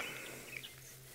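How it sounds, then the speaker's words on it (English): A Jacobin cuckoo calls faintly in the distance on an African safari, with a few thin chirping notes over a low, steady outdoor hum. "You can hear a Jacobin cuckoo making noise in the distance."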